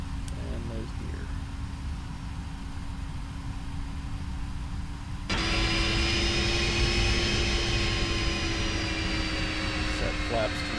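Boeing 767 jet engines hum steadily while taxiing in the X-Plane 11 flight simulator, then abruptly step up to a louder, brighter whine with a sustained tone, under occasional speech.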